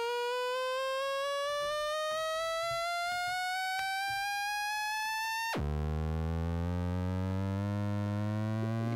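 A Make Noise Maths synthesizer drives a pure tone that glides slowly upward in pitch, then abruptly switches to a lower, buzzier, harmonically rich sustained tone, clean and without voices.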